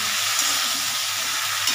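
Mixed vegetables fry together in oil in a pan, giving a steady, close hiss of sizzling with faint stirring scrapes and no voices.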